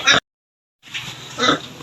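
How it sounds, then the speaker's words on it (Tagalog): A short grunt from a sow, a pause of silence, then a longer snorting, squealing oink from close by. "ito pala yung baboy ni Biloy"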